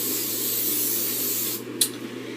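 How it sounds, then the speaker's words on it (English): Hairspray hisses out of a can onto hair in a steady, close, continuous spray that cuts off sharply near the end. "you're going to spray it like that"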